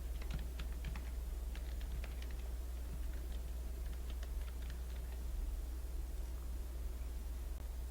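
Rapid, light keystrokes and shortcut presses on a computer keyboard, heard as faint clicky taps in short bursts over a steady low electrical hum.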